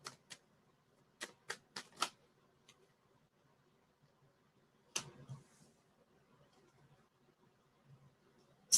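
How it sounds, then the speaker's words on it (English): Tarot cards being shuffled in a quiet room: a handful of short, sharp riffles and taps in quick bursts, then a softer brief shuffle, with long silent gaps between. "Shuffle these cards in again."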